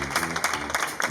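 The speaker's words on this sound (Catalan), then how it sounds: "Fort aplaudiment a la Mireia." A theatre audience gives a loud burst of applause after a world-premiere performance at a live show in Sant Feliu, Sabadell, with dense, close, continuous clapping.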